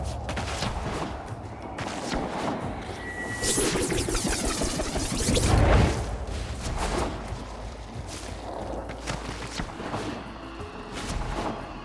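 Rapid weapon fire against an infestation hive in Warframe, with dense bursts of gunshots and heavy blasts layered over game effects, loud and close, peaking in the middle of the clip.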